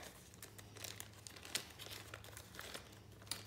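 Cards from a dried urine hormone kit are pushed into a plastic biohazard bag, giving soft, faint crinkling and rustling in short irregular bursts, close up with no talking.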